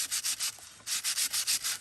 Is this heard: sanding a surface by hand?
yes